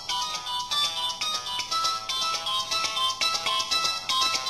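A mobile phone alarm ringtone plays a bright, repeating electronic melody in short rhythmic bursts, moderately loud, with no talking.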